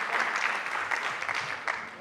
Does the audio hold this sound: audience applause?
yes